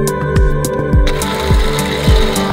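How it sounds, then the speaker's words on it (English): A small gear train driven by a fast brushless motor inside a spinning rocket prototype clicks and ratchets close up, with repeated rhythmic mechanical ticks and a steady motor whine underneath, no voices. "This is the gear train between the brushless motor that drives the spinning shelf and the central tube."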